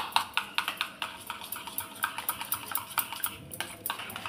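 Curd being whisked in a bowl, a rapid, even series of close clinking strokes that carries on steadily throughout.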